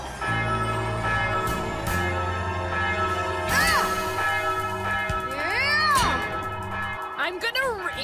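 A cartoon bell rings in a bell tower, with sustained tones layered under music, bird-like chirps and voices.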